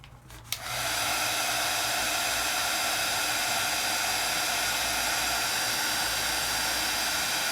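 Heat tool blowing steadily to heat-set ink dots on a craft project, switched on with a click and then a constant loud fan roar with airy hiss, close up and uninterrupted, no talking.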